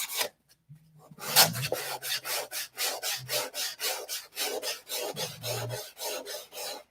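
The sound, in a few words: sanding wood with 180 grit sandpaper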